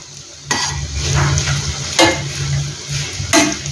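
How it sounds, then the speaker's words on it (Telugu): Bread pieces frying in a pan for a sweet dessert, a steady sizzle with a few sharp clanks and scrapes as the pieces are turned. "ముక్కలు వేసి వాటిని వేయించుకుందాం ఇలా టర్న్ చేస్తే అటుపక్క కూడా బాగా వేగుతుంది"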